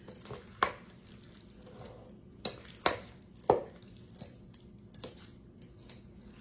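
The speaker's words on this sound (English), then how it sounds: "Just gently go down to the bottom and fold it over till everything is coated." Mayonnaise is folded through warm potato salad in a bowl with a spoon, giving soft wet squishes and several sharp clicks of the spoon on the bowl spread unevenly over a few seconds.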